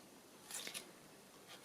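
Scissors snip across a paper envelope in a Christmas journal project, two or three quick crisp cuts clustered close together, with a faint single snip shortly after, quiet and close against a soft hiss.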